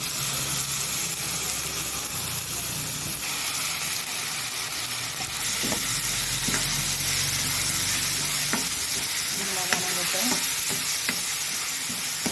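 Ginger garlic paste and tomatoes sauté in a pan, a dense close sizzle joined midway by a string of spoon scrapes and clinks as they are stirred, with no speech.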